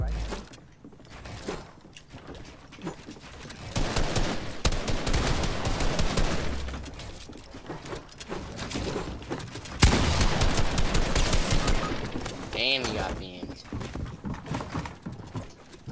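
Rapid bursts of assault rifle fire in a Fortnite match, loud and dense, crackling in quick volleys with brief pauses between strings of shots, alongside game effects.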